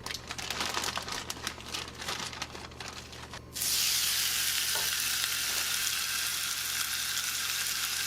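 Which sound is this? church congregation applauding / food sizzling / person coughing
food sizzling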